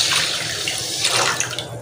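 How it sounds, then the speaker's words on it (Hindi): Water pours steadily into a pot of soaked rice, a continuous close splashing rush with no talk. "अब दूसरा पानी जो है वो मैं इसके अंदर डाल दूँगी।"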